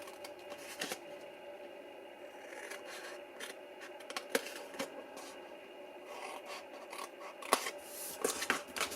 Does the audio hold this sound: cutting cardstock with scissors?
yes